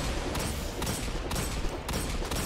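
Hand cannon fire in the Destiny 2 video game during a Master Lost Sector run, heavy shots landing in quick succession over a dense, loud wash of combat noise with no talk.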